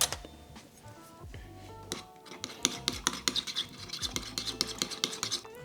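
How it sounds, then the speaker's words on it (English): Curry hot wing sauce ingredients stirred together in a bowl, with a dense, steady run of scraping and clinking strokes that grows busier and louder toward the end. "you're going to want to mix this all up"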